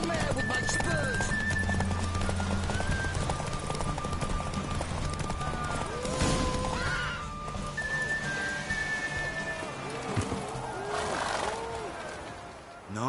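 Horse galloping in a race in Witcher 3, steady clip-clop hoofbeats under music and character talk, with whistling tones and a brief whinny.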